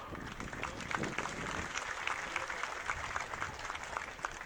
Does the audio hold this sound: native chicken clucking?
no